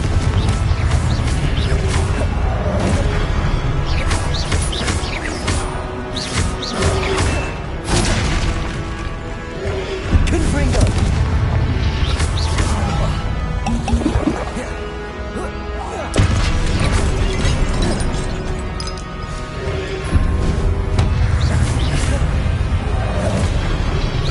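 Confringo spell blasts in Hogwarts Legacy combat keep booming and crashing in a loud, near-continuous barrage, heavy impacts piling over one another with hardly a pause.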